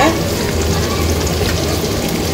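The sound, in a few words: chicken frying in oil for biryani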